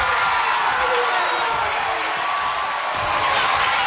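A wrestling arena crowd roars in a steady wash of cheering and whooping, loud and continuous throughout with no breaks.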